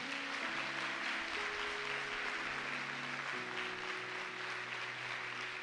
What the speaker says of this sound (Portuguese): A igreja aplaude o nome do Senhor Jesus por isso